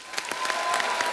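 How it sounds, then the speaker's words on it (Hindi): Clapping from a studio audience greeting a guest on a Hindi comedy talk show, a thick continuous wash of hands with a few sharper individual claps poking through, loud and close, no talking. "आप सबकी जोरदार तालियों के बीच प्लीज वेलकम"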